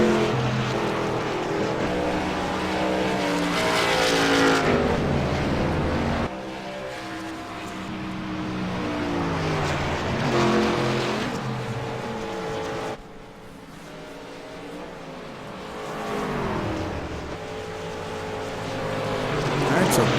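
Race cars circling behind the pace car, engines droning steadily at moderate speed with swells as they pass and recede, a continuous layered roar that rises and falls over about twenty seconds, with an announcer talking throughout.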